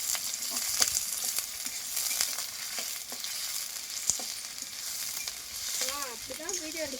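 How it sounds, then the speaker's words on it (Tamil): Chopped onions fry in hot oil for a home-cooked mutton curry, a continuous close sizzle with sharp spatula knocks scattered through, and a faint voice rising briefly near the end. "வெங்காயம் கொஞ்சம் விதக்கட்டும்."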